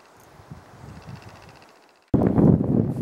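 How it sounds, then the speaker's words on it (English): Strong wind blowing across a lake campsite as a storm approaches, soft gusty rustling at first that drops away, then a sudden loud rush of wind noise buffeting close to the microphone for the last second. "Well, the wind's really picked up."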